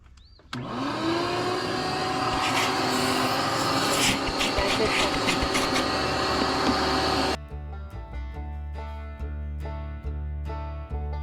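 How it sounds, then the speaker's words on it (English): A shop vacuum cleaner, used while cleaning out a big-block Ford F350 with a 460 engine, switches on with a loud steady whine and roar that runs for about seven seconds, then cuts off and winds down. "we got our vac all plugged in. So let's vacuum."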